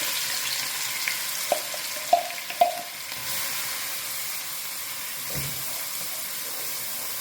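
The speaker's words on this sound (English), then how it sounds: "Saute your onion, garlic, and pepper." A steady sizzle of onion, garlic and pepper frying in hot oil, with a few clinks of a utensil stirring the pan early on.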